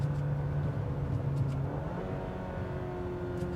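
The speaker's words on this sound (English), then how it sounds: "We're gonna go from fifth to fourth, third, second, upshift, downshift into second" A 2017 Mazda CX-5 engine hums and rises in revs as it downshifts through the gears, a steady in-cabin drone with shifting pitch and no talk.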